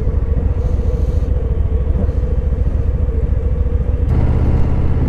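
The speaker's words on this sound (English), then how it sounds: "2 adventure bikes." Two adventure motorcycles passing on a road, a loud steady engine rumble close by, heard from a moving vehicle with constant road noise throughout.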